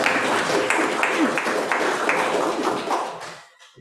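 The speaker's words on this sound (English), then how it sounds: "Should we clap with each one?" Applause at a congregation's board installation ceremony as officers are called to rise, a dense wash of many hands clapping steadily for several seconds before tapering off.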